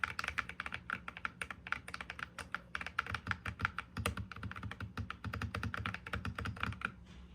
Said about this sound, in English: The ceramic keycaps really made a great difference. Changed it to a much deeper sound.